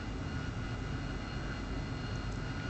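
Steady jet engine roar of an AV-8B Harrier starting up in the DCS flight simulator, a continuous, even, moderately loud hum and whine with no pauses.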